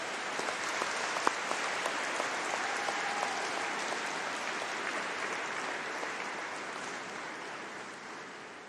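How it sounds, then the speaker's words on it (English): Dense, sustained applause and cheering from a large crowd of graduands filling a graduation ceremony hall, steady and loud throughout without letting up. "just give a huge round of applause and a cheer for everyone in front of you"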